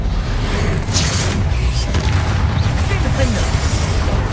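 Incendio fire spell combat from the game Hogwarts Legacy fills the clip with continuous loud whooshing blasts, crackling impacts and rumble, dense battle effects with no clear pauses.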